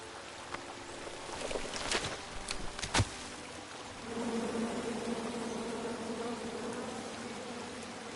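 An angry swarm of bees buzzing from a tree chopped down in a PS4 video game, a faint steady droning hum that swells after a few sharp clicks, quiet throughout with no talk.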